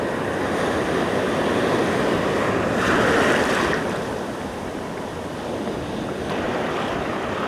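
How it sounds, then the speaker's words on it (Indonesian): Tall ocean waves crash loudly and continuously onto the shore, one surge swelling louder midway, with wind buffeting the microphone and no voices. "ombaknya udah tinggi"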